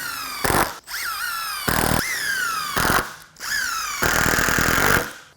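Power drill driving 3-inch wood screws during assembly of a roll-up door, loud close whining bursts that rise in pitch, four separate runs with short pauses between them.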